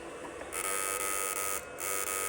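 A small electric fishing machine runs with a steady, loud electrical buzz that switches on and off abruptly, cutting out briefly once before resuming.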